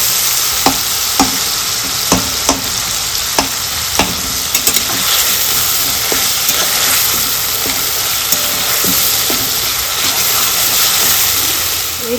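Boiled tomato and spices frying in fish-frying oil for a rupchanda fish curry, a loud continuous sizzle broken by a regular series of sharp spatula scrapes and taps, with no talk.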